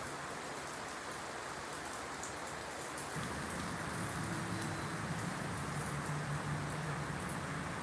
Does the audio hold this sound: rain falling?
yes